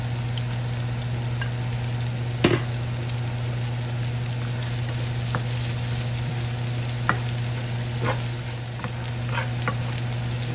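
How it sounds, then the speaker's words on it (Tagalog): Chopped garlic and onion sautéing in a pan for Kapampangan pancit luglog, a steady close sizzle with a few sharp clicks of the utensil against the pan. "Tapos maggigisa na tayo ng bawang sibuyas."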